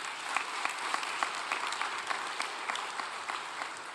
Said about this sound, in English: If we could give them a great round of applause for hosting our opening lunch.